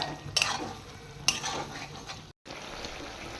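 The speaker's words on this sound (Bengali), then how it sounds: "এটা একটু ভালোভাবে 2 মিনিটের মতন আমি কষিয়ে নেব" Pointed gourd being sautéed in a pan, a soft steady sizzle with two sharp stirring scrapes of a spatula, then a brief silent gap before the frying resumes.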